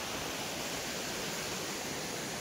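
Dokrichanchara waterfall in Kalahandi district pours in a steady, unbroken broadband rush, fairly loud and close, holding an even level throughout with no voices or other sounds breaking through.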